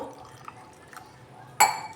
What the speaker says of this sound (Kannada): ಇದಕ್ಕೆ ಒಂಚೂರು ನೀರು ಹಾಕ್ಬಿಟ್ಟು